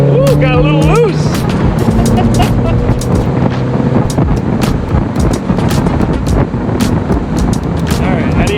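A Mazda Miata driving around town, its engine droning steadily and loudly along with road and wind roar the whole way through, under brief talk at the start.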